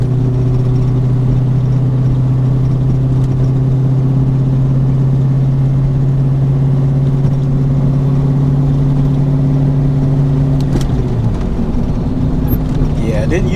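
A car fitted with upgraded 3.73 gears runs at a steady, droning engine note through a residential neighborhood, loud and continuous, then the pitch drops as the revs fall near the end, with a driver talking over it.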